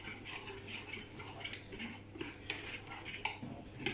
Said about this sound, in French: Donc on mélange bien son chocolat avec son beurre.